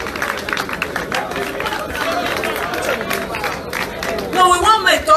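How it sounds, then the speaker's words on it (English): Crowd applause and cheering for Omoyele Sowore at a large outdoor gathering in City Park, Wuse, Abuja, a steady wash of clapping and crowd noise with voices and chatter mixed in, swelling louder near the end. "a big round of applause for the publisher of SAHARA reporter"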